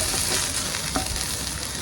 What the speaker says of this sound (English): I'm going to saute that up